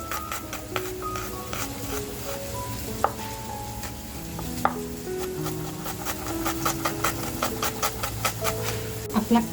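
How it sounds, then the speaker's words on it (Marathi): Quick, steady knife taps on a cutting board as an onion is finely chopped, a rapid run of sharp chops with soft music playing underneath. "कांदा बघा मी अगदी बारीक कापून घेते"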